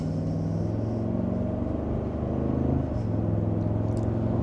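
A 2025 Cadillac Escalade engine in sport mode under mild acceleration from inside the cabin, giving a steady low hum and rumble that rises slightly in pitch, with faint road noise underneath.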